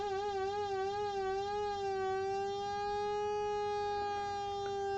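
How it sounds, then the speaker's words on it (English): A synthesizer oscillator drones as a steady buzzy tone, its pitch wobbling in slow vibrato from an LFO, the wavering fading toward evenness; fairly quiet and alone. "If I turn up via an attenuator, so there's our LFO."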